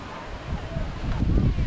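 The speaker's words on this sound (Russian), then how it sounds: "Ветер, конечно, сильный" Strong wind buffeting the microphone outdoors atop a Scottish castle on a cliff, a continuous low rumbling roar that gusts louder toward the end.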